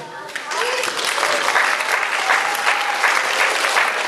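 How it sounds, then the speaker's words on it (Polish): Sustained applause from an audience at a children's show welcoming kindergarten groups, a steady wash of many hands clapping throughout, fairly loud with faint voices mixed in. "Oj, coś słabe te oklaski."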